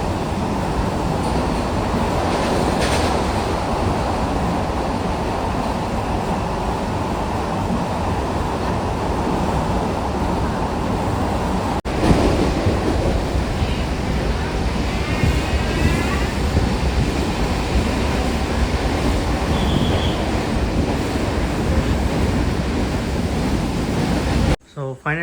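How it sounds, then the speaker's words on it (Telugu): A Mangaluru express train on the Murdeshwar to Goa route runs through a tunnel: a loud, continuous roaring rumble with rattling wheel noise that fills the whole stretch, while a voice talks faintly underneath at times. "ఇది వచ్చేసి టనల్ లోపల అయితే వెళ్తాం మన ట్రైన్ వచ్చేసి"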